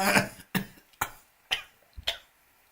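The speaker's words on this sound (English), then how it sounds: "if I coughed any louder, I would probably feel the pain" A run of short, sharp coughs in a parliamentary chamber, about six in quick succession, close and fairly loud with brief pauses between them.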